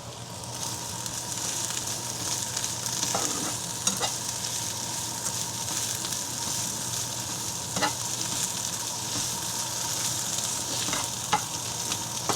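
Vegetables being stir-fried in a pan for bibimbap, a steady close sizzle with occasional scraping stirs and clinks, no talking.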